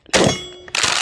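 A Kel-Tec shotgun fires at a steel target, giving two loud, sharp blasts close together, each with a ringing metallic clang and a short decay.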